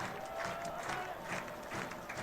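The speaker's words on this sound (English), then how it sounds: "The fans are fired up, getting into it here, on their feet, chanting and clapping." Football fans in a stadium crowd chant and clap together in a dense, steady roar with rhythmic pulses, heard from a distance and fairly faint.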